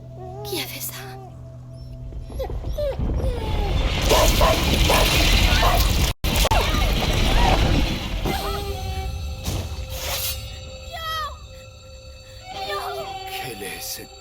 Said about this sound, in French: Viens, mon chien!